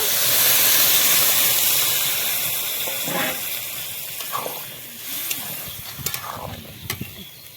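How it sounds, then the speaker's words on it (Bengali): Water goes into a hot pan of soybean curry made with yogurt, setting off a loud hiss of steam that slowly fades, followed by a few soft clinks and stirring sounds as the sizzling dies down. "জল দিয়ে দিব"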